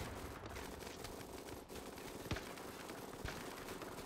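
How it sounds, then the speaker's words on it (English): Gunfire in the Swamp People video game, a dense run of rapid shots crackling continuously over a noisy background, with two sharper cracks standing out near the end. "I see a lot of bullets flying and a lot of misses"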